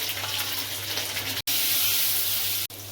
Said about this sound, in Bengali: পটলগুলোকে এবার খুব ভালো করে লাল লাল করে ভাজতে হবে।